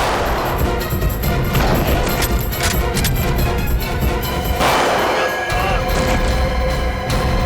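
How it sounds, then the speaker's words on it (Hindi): Dense, chaotic bursts of gunfire and crashing blasts fill a TV crime drama scene, loud and continuous, with voices buried in the noise. "बच्ची पे गोली चलाता है।"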